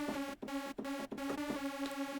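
Serum saw lead synth with stacked unison voices, a sustained bright buzzy tone holding steady pitches with brief dropouts between short repeated phrases, loud and alone.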